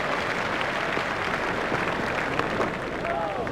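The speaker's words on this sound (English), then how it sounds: "Klusener raises his bat to the crowd to acknowledge the applause." A cricket match crowd applauds at a one-day international between South Africa and Australia, a dense, steady roar of distant clapping that continues throughout.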